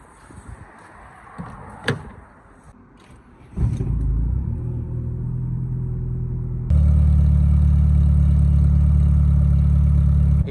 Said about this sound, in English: I've given my car some revs